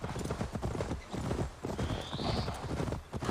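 Horse hooves gallop in a steady clip-clop rhythm in Assassin's Creed Valhalla, close and continuous, with a short whinny partway through and game ambience underneath.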